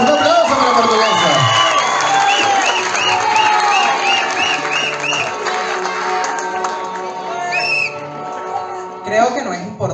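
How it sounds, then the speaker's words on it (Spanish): Audience at a Miss Gay Venezuela pageant in Viña del Mar applauding and cheering for Miss Portuguesa, loud sustained clapping with whoops and whistles, a host's voice over the top and music rising near the end. "¡Un aplauso para Portuguesa!"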